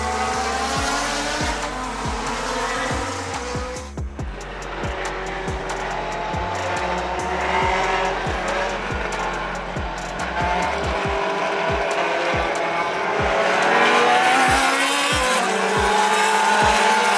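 Historic Formula 1 race cars roar past at the Dubai GP Revival 2023, loud engines rising and falling as several cars pass in succession, with sharp repeated gear-change pops and a steady high-pitched engine scream throughout.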